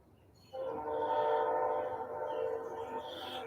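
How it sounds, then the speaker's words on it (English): A train's horn blows in a long, steady multi-tone blast lasting about three seconds, loud and full despite coming from a good distance away. "this train, I swear. It sounds like it's right behind us, and it's not. It's a good ways away."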